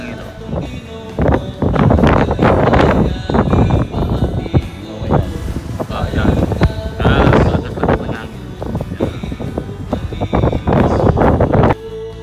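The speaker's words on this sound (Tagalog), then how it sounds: "Lakas-lakas ng hangin po." Strong outdoor wind buffeting the microphone in loud, rumbling gusts that swell and fade irregularly throughout, briefly easing near the middle.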